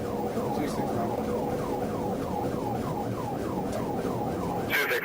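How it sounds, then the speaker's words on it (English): A police car's emergency siren wailing in rapid repeated sweeps during a traffic stop, steady and prominent over road and engine noise, with a brief high burst near the end. "Trooper activated emergency lights and siren to initiate a stop"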